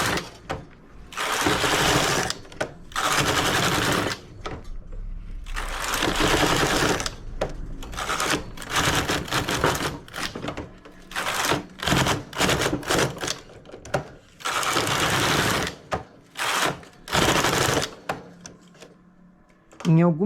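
A knitting machine carriage sweeps back and forth across rows while working a lace stitch, giving loud rattling mechanical bursts separated by short pauses, with speech between passes.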